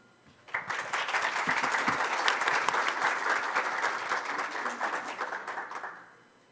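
Audience applause at a rare epilepsy symposium opening in Brazil, a dense burst of clapping that starts abruptly, holds steady for about five seconds and then fades out.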